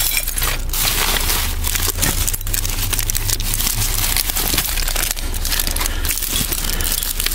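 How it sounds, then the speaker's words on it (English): Glass shards clink, crunch and rattle inside a full office-store dumpster, with loud, irregular bursts of shifting and crushing glass mixed with crinkling debris, close and continuous throughout. "See how hard it is to be quiet when the dumpster is full of glass?"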